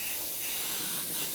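Short bursts of aerosol spray paint hissing onto a small custom-painted dinosaur coin bank, a close, steady airy hiss with slight swells in intensity.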